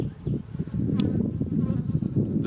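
Honeybees in a weak hive with a large drone among them give a steady, close, low buzzing drone that fills the whole stretch, broken by one brief sharp tick near the middle.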